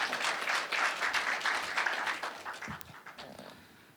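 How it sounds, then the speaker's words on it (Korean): Audience at a Korean science policing forum applauding to welcome a police official to the podium, a steady, dense wash of clapping that gradually fades toward the end, with no talking. "큰 박수로 맞이해 주시면 감사하겠습니다."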